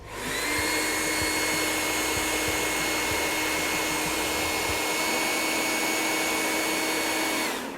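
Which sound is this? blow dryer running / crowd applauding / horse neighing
blow dryer running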